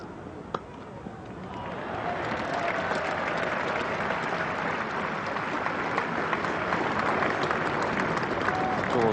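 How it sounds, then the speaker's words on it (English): Cricket crowd at an England versus West Indies test match applauding a 50 partnership, steady broad clapping building after a sharp crack and holding on. "Applause for the 50 partnership."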